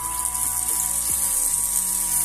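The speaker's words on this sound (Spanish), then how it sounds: "ahí podéis ver el ruido que hace como un silbido, un pitido" Electric water heater whistling as hot water runs under overpressure, a steady high-pitched tone held throughout against a constant hiss of flowing water, close and continuous with no talk.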